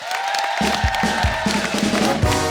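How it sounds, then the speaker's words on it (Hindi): Studio audience at a Hindi comedy talk show applauds and cheers near and loud, a dense wash of crowd noise and voices with a few low thumps, continuous throughout. "जोरदार तालियां हो जाए एक बार"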